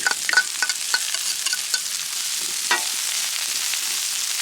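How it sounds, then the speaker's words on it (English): Peppers sizzle in bacon grease on a griddle, a steady crackling fry with occasional stirring scrapes, close and alone with no voices. "We're gonna put the peppers down in the bacon grease."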